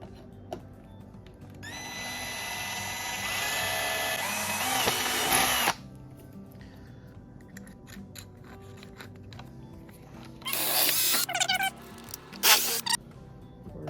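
A power drill whines loudly for about four seconds, stops, then buzzes again in two shorter bursts after quiet clicking and handling noises, while building a DIY nano canister filter.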